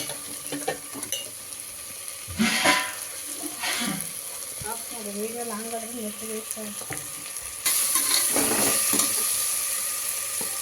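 Drumstick leaves cook in a pan for fenugreek pulao, giving a soft steady sizzle with occasional stirring clatter, close by, while a voice speaks briefly over it midway.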